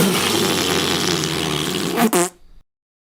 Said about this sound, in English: Fart noises?